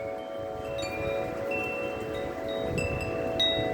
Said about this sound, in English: We got a little wind. No blizzards here.